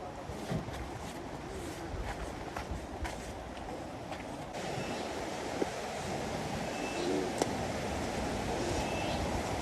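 Vanachalu twin waterfalls in Coorg produce a steady broadband rush of falling water at moderate level, with a few faint clicks and knocks nearby.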